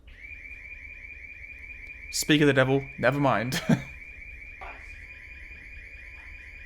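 A smoke detector alarm in a Paranormal Activity movie sounds a steady, warbling electronic beep that runs loud and continuous through the whole stretch, with people talking over it partway through.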